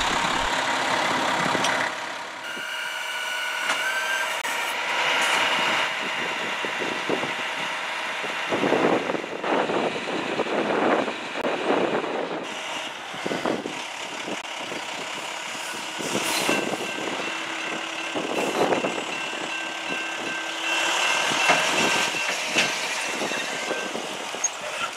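A rail truck's engine idles and rumbles near a road crossing by a train yard, with clanks and metallic knocks as it leaves the rails.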